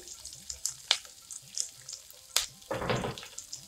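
Sliced onions and green chillies fry in a pan with chickpeas: close sizzling with scattered clicks and scrapes of stirring, rising into a louder crackling burst near the end, with no talk.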